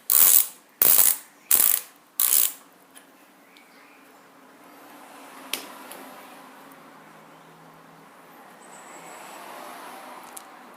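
A hand ratchet loosens the front wheel bolts on a motorcycle in four quick, loud bursts of clicking near the start, followed by quiet workshop ambience with a couple of faint taps.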